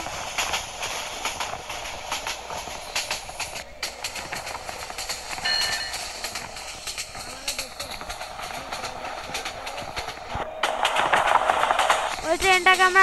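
Subarna Express locomotive in Train Simulator Bangladesh running at high speed, a steady rumbling rail drone with clicking wheel noise throughout, growing louder near the end, with a voice talking over it.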